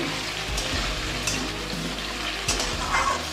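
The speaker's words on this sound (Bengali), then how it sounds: "এখানে পেঁয়াজ রসুন জিরে ফোড়ন শুকনো লঙ্কা তেজপাতা সব ফোড়ন দিয়ে আলুটাকে ভাজছি" Potatoes frying with onion, garlic, cumin seeds, dried chili and bay leaf in hot oil, a steady close sizzle with periodic scraping stir strokes and a low background hum.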